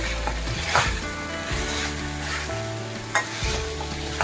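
Chicken pieces stirred with salt, turmeric and masala in a pan for a chicken and broad bean curry, a loud close sizzle with scraping spoon strokes and a few utensil knocks, no talk.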